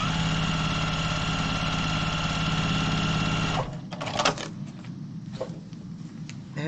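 A domestic sewing machine runs steadily as it stitches through a thick quilt, two layers of fabric caught together, with a loud even drone that stops after a few seconds. Faint handling clicks and rustles follow.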